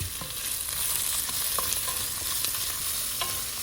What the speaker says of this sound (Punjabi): ਲਓ ਜੀ ਹੁਣ ਆਪਾਂ ਪਿਆਜ਼ਾਂ ਨੂੰ ਥੋੜੇ ਜਿਹਾ ਬਰਾਊਨ ਕਰ ਲਵਾਂਗੇ